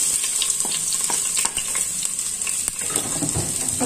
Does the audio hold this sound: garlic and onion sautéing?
yes